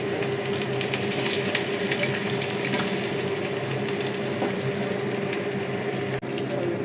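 Stuffed spiny gourd (kakrol) fries in a pan of oil with a steady, close crackle and hiss that holds for the whole stretch, then drops away sharply near the end.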